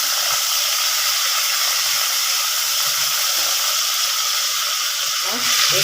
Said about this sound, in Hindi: कीमा डालना मटन का कीमा 1 कटोरी देखा वो डाल रही हूँ इसमें।